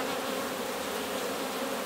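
Honey bees buzz in a dense, continuous drone inside a hive as it is gently smoked during a brood inspection, loud and close with no pauses.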